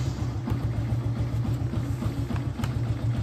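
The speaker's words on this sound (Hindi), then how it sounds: "बाइक को स्टार्ट करता हूँ." A motorcycle idles steadily on a roadside stop in Maharashtra, India, a low, even, throbbing engine rumble with faint rhythmic pulsing and no voices.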